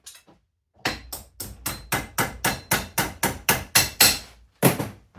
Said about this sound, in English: I'm bashing that in the vise.